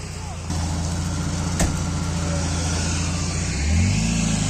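Off-road car engine drones steadily at the close microphone while winching out of mud at an extreme off-road event, then rises into a brief rev near the end.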